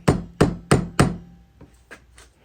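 Hammer tapping a nail set down to clamp a flatback cast plaque while glue sets: four sharp, evenly spaced close strikes, followed by a few lighter, softer taps.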